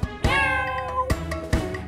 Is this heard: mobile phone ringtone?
no